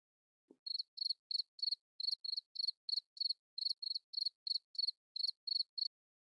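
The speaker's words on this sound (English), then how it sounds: "Do we have the cricket sound effect for Knowledge?" Cricket chirps in a steady series of short, evenly spaced pulses, about eighteen bursts in quick rhythm, clear and alone against silence after a faint low tap at the start.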